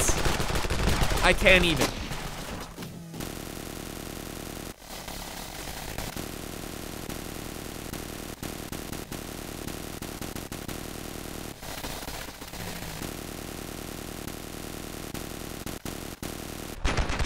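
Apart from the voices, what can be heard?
gunfire in video game Ravenfield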